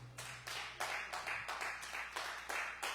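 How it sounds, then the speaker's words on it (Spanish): A church congregation at a Spanish-language service stands and claps for the Lord. The clapping comes in a steady rhythmic beat of roughly three claps per second, fairly faint and slightly distant, with no one talking. "Póngase de pie y denle un fuerte aplauso al Señor."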